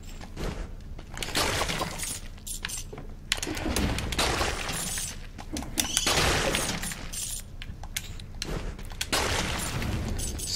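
Repeated crunchy shattering bursts from smashing enemies in the video game Dead Cells, loud and close, with several impacts in quick succession over a busy game soundtrack.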